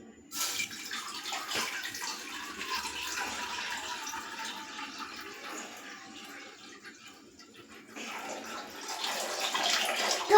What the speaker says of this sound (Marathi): आता मी या या बाउलमध्ये टाकतोय पाणी